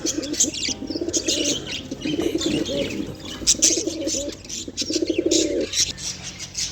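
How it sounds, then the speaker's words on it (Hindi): Pigeons coo in repeated soft, throaty phrases, close by, with light chirps and a brief flutter of wings in the background. "तो दोस्तों सबसे पहले कबूतरों को देख लेते हैं"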